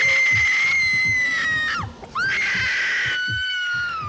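A crowd of people scream loudly and continuously in a horror film, a sustained shrill wail that dips briefly and then surges back in full force.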